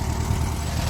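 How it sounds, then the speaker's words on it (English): The air-cooled 1600 engine of a Volkswagen Beetle 1302S runs with a steady low, even thrum, close and continuous for a brief moment. "I love the sound of the little air-cooled 1600 engine."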